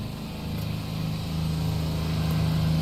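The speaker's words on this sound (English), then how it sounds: "Lawnmowers, man." A lawn mower engine drones steadily in the background, a low continuous hum that grows slightly louder, with no talking.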